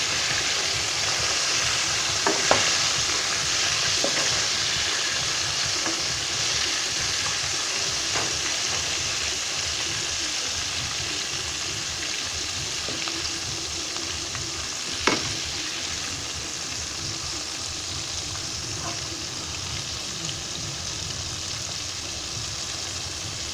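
Catfish frying slowly over low heat, a steady, even sizzle and bubbling that runs the whole time, with a couple of faint clinks and one sharper tap partway through, and no voices.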